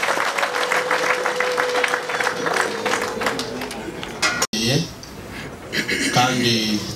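An audience at a Rwandan wedding ceremony claps steadily to welcome a pastor, sustained loud applause that breaks briefly and resumes with someone speaking over it.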